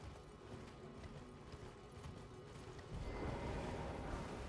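Horse hoofbeats while riding in Elden Ring, a quick rhythmic clatter of hooves mixed with mechanical creaks. The clatter stays close and moderately loud, swelling slightly toward the end.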